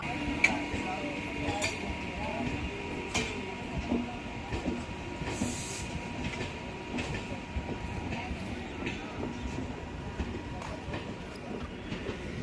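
A train rolls past a platform at an Indian railway station with a steady rumble and faint clicks of wheels on rails, metallic clinks here and there, and distant murmuring voices.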